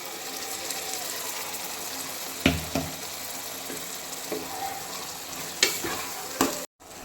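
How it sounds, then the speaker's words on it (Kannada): Ground masala paste fries in a pan for an egg and spinach pulao, with a constant close sizzle and sharp scraping stirs, ending in a brief abrupt silence. "ಈ ರುಬ್ಬಿರೋ ಎಲ್ಲ ಮಸಾಲೆ ಎಲ್ಲ ಹಾಕಿದ್ಮೇಲೆ ಇದು ಚೆನ್ನಾಗಿ ಫ್ರೈ ಮಾಡ್ಕೋಬೇಕು."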